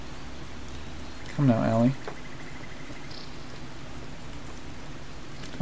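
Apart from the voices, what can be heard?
rain storm in Skyrim video game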